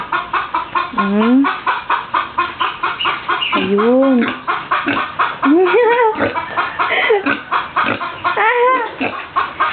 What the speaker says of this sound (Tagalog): Merong manok dito.